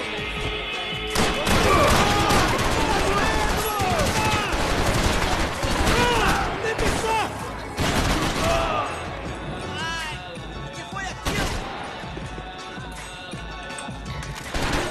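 Dense gunfire from Max Payne 3 on the streets of Brazil, with rapid bursts, crashes and impacts filling the whole stretch and fading slightly toward the end, mixed with game music and effects.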